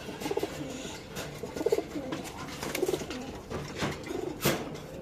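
Several Iranian tumbler pigeons coo in soft repeated bursts at close range, with handling noises and a low background hum between the calls.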